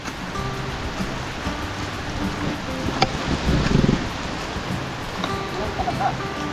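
Rain falls outdoors where people are digging a drainage canal, making a steady broadband hiss throughout, with a brief murmur of voices near the middle.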